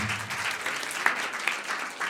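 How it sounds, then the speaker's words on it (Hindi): A congregation at a Sunday church service applauds loudly, a thick, sustained roar of many hands clapping throughout, with a couple of sharper accents and a faint low murmur at the start. "जोरदार ताली देगा"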